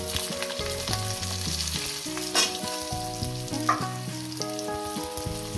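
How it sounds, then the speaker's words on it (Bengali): Potato pieces frying in hot oil for a khesari greens chorchori with brinjal and bori, a continuous close sizzle with occasional sharp stirring clinks, no voices. "প্রথমে আমি আলুগুলো আগে দিয়ে তিন থেকে চার মিনিট আমি এটাকে ভেজে নেব"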